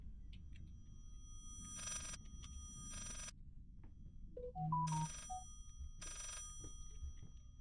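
A telephone rings in a horror video game, three separated bursts of electronic bell ringing over a low ambient drone, with a short run of rising tonal beeps between them.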